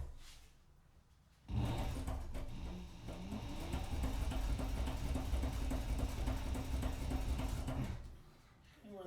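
Sewing machine stitching a fabric clutch bag, running in one steady, continuous mechanical hum for about six seconds after starting abruptly, then stopping, heard close with no talking.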